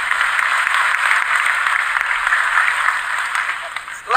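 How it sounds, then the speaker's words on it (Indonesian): An audience at an Islamic religious gathering with Gus Baha claps together in a steady, dense patter of applause that fades near the end. "Tepuk tangan untuk beliau, enggak apa-apa."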